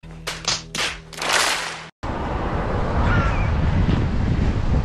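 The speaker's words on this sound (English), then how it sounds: "oh God, windy" Strong wind buffets an outdoor microphone, first in gusty bursts and then, after a brief dropout, as a loud, continuous roaring rush.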